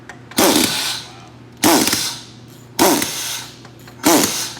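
An impact wrench works on a 1955 Buick Century, firing four loud, close rattling bursts of about a quarter second each, separated by pauses with a low hum.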